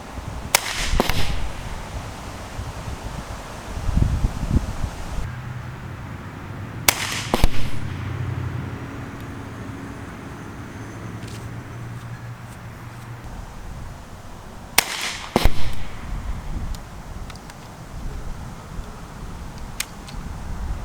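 Short-barrel airgun shots go off a few at a time, sharp isolated cracks separated by several seconds of quiet outdoor ambience, with a low hum in between.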